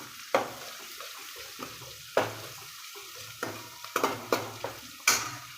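Green chili and garlic frying in a pan with onion, a low sizzle broken by sharp intermittent spatula knocks and scrapes, close and without speech.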